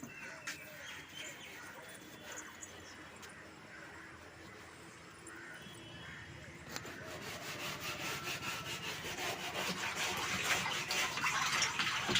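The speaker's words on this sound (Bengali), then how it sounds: "আমাদের ট্যাঙ্কিটা পরিষ্কার করা হচ্ছে" A rooftop water tank being scrubbed clean in the early morning, with continuous rubbing and scraping strokes that grow louder and more rhythmic toward the end, and faint bird calls in the background.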